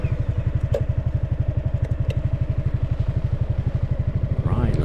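A 2022 Honda Forza 350 scooter engine runs at a steady low idle-like putter, close and loud, with even rapid pulses throughout and a slight rise at the end.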